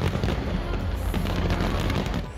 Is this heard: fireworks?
yes